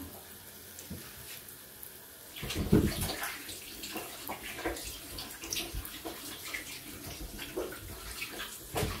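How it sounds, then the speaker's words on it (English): Hands are washed under running tap water in a home kitchen. A close, continuous splashing hiss begins about two and a half seconds in and carries on to the end. "Wash my hands."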